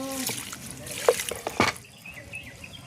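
Fresh coriander leaves are swished and rinsed in water, giving soft trickles and a couple of brief splashes close by, quiet between the bursts.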